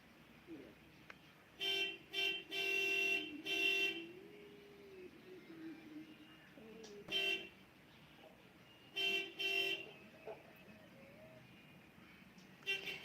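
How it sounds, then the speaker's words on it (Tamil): Several separate car horn blasts from a television, some short and some held for a second or more, sound at moderate distance over a quiet background hum. "டிவியில் யாரோ ஹாரன் அடிக்கிறாங்க"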